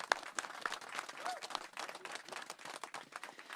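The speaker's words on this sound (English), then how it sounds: "So give all of you a big hand clap" Audience clapping at a city and police leaders' announcement of a new District 5 police headquarters, a quiet, distant round of applause from a small crowd, steady and scattered.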